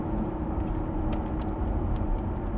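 A Lamborghini Huracan engine drones steadily on the Prestwold Hall track as the driver shifts down through the gears, a close, continuous roar with a few brief sharp edges and no talking.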